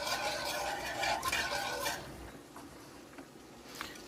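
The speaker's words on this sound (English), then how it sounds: "Whisk it until smooth." A whisk works lasagna sauce in a pan over raised heat, brisk scraping and stirring strokes for the first couple of seconds, then fading to quieter occasional taps, no talk.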